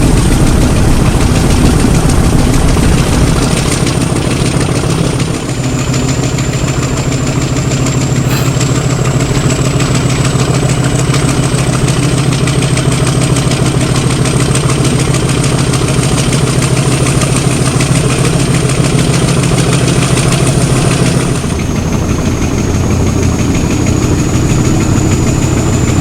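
Class 33 diesel locomotive idling, a steady heavy low rumble with a constant high whine, loud and close for the whole stretch, with a slight shift in tone partway through and again near the end, no talk.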